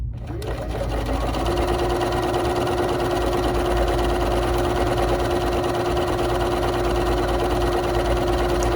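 A BERNINA 3 Series sewing machine stitching out decorative stitch number 32: after a quick start the motor settles into a loud, steady, even hum with rapid needle chatter running without pause, no speech.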